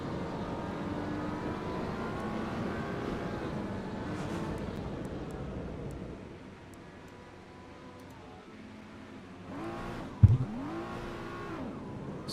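Racing-game car engine in Assetto Corsa EVO, a steady droning whine with shifting pitch that eases off midway, then a sharp thump and a brief renewed rev near the end.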